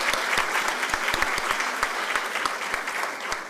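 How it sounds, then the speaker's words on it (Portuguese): Audience applause greeting the arrival of a national president at a legal conference on family and succession law, a steady dense clapping from a large crowd held at an even level throughout. "Alguém já aplaudiu a chegada do presidente nacional do IBDFAN"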